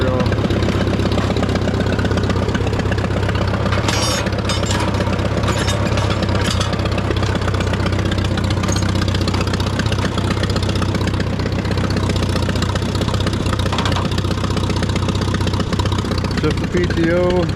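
A Farmall A tractor engine idles steadily after a choke warm-up, a continuous low rumble close by, with a person talking over it.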